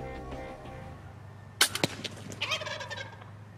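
Wild turkey longbeard gobbling during a Michigan spring hunt: a sudden loud, rattling burst of gobbles from close range, followed by a few shorter trailing calls over a steady low background hum.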